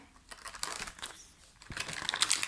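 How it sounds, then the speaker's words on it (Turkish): A plastic package for an N. Bonnie figure is opened by hand, giving close crinkling and rustling with a few sharper crackles, steady and loud for a couple of seconds. "Hadi e, paket açılımımıza geçelim."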